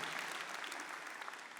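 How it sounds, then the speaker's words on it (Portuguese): A church congregation claps for a minister, a dense, even burst of many hands applauding heard from a distance, quiet and steady throughout the short stretch. "Vamos dar uma salva de palmas ao Moisés"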